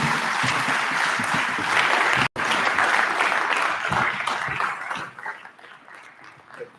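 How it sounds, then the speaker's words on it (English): Sustained applause from an audience at a smart-mobility conference after a keynote, a dense wash of clapping that holds steady before thinning out toward the end, with a brief dropout partway through. "Can we give a round of applause to Deputy President Paul Mashatile?"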